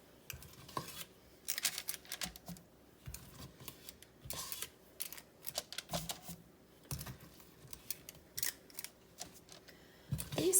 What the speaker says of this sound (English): I'm going to use my ice cream scooper again